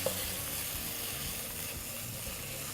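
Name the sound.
stirring onions into citrus chili pesto paste in pan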